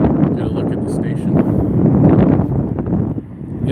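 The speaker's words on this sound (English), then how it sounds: "Yeah, it is windy." Wind gusts roar steadily into the microphone on a snowy hill beside a fence near a transit station, a constant loud rumble that swells and eases throughout.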